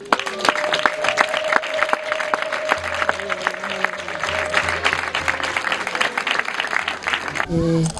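A ceremony audience bursts into sustained applause mixed with high ululation, dense clapping filling the whole stretch while voices mingle in the crowd.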